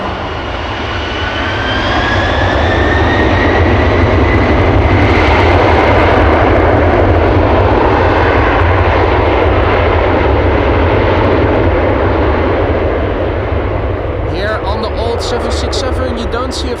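Boeing 767 jet engines at Amsterdam Schiphol swell into a loud, rising roar and then slowly fade, with a rising whine on top and someone talking over the engine noise.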